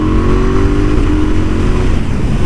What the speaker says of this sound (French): Oh là là, le shifter incroyable.